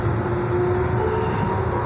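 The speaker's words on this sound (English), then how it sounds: "train is moving to one station to another" A city commuter train rolling between stations on an evening run, a steady close rumble and rattle of the carriage with a faint high whine, continuous and without talk.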